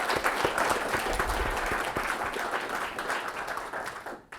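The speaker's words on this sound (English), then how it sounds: "So let's give them a round of applause." An anniversary celebration audience applauds the staff, a dense, steady round of clapping from a sizable crowd that holds evenly and then tapers off abruptly at the end.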